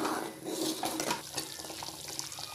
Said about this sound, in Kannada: ಜೀರಿಗೆ ಬಜ್ಜಿ ಕುದೀತಾ ಇದೆ